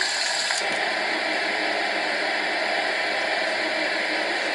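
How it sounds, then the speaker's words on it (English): A sleep sound machine gives off steady, even white noise: a loud, constant hiss that stays unchanged throughout, with a faint click near the start. "And then after that, we have the white noise."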